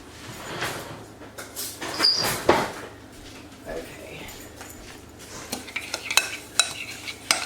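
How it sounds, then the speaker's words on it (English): A spoon scrapes and clinks in a bowl while panko breadcrumbs are mixed with butter, giving irregular stirring taps and rustles, with a person talking over parts of it. "just mix that up to where the butter is absorbed"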